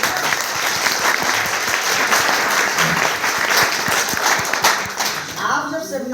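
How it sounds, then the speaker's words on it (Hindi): An audience at a stage seminar claps in dense, sustained applause throughout, loud and close, with a few overlapping voices beneath it. "अरे ताली तो बजाओ।"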